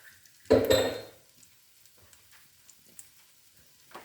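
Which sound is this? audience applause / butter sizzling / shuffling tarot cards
butter sizzling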